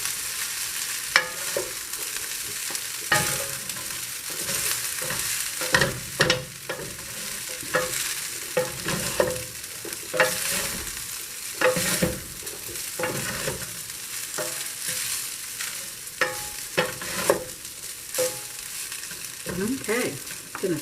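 Herb rice frying in a pan and being tossed, a continuous sizzle punctuated by many sharp scraping and clattering strokes at an uneven rhythm over about twenty seconds, close up, with no voices.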